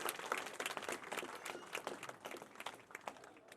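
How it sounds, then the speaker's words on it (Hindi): An audience at a school annual function claps in dense, sustained applause, heard quietly from a distance as a steady crackle of many hands with no talk. "जोरदार तालियों से अभिनंदन करें।"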